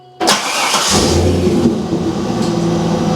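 Chevrolet Corvette C5 strapped to a dyno fires up, an abrupt loud start after near silence that settles into a steady mid-pitched engine roar while the tyres are warmed up.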